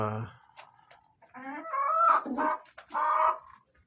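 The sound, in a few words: chickens clucking in coop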